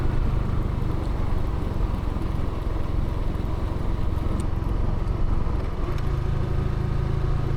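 A motorcycle cruising slowly on a rural road toward waterfalls and cold springs, its engine a steady low drone with rushing wind throughout and a slight shift in pitch near the end.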